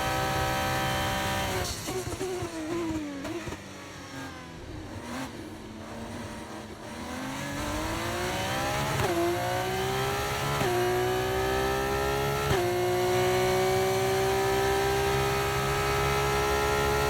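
An F1 car screams through a fast lap in F1 24, the engine pitch climbing through upshifts and dropping sharply under braking, a loud, close, continuous whine with no talk over it.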